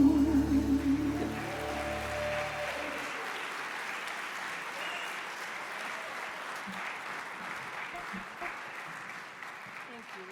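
Applause for a band fills a hall at a champions awards night, a broad steady wash of many hands that starts right after a closing sung or played note and runs on evenly.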